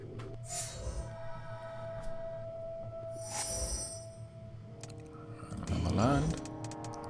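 Computer keyboard typing during play of the Magic: The Gathering 2013 game, with soft, scattered key clicks under a steady electronic hum and brief tonal game sounds.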